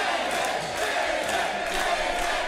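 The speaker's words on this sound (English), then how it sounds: "the Hollywood crowd going crazy for the Hollywood elite" A wrestling crowd cheering wildly for David Arquette in the ring, a dense, loud wall of shouting and roaring voices that swells and holds across the whole moment.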